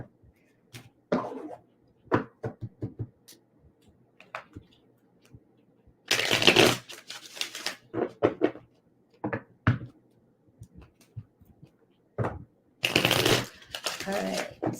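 Repeated crisp riffling bursts of tarot cards being shuffled, close up, separated by softer taps and handling sounds.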